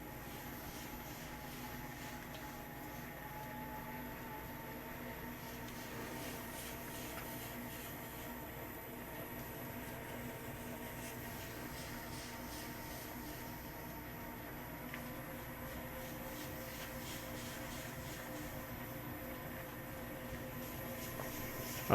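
A KYS Pro Baker 7+ spiral mixer kneading a maximum-size batch of pumpkin dough at 200 RPM, giving off a steady, loud mechanical drone with a strained motor hum that runs unbroken throughout.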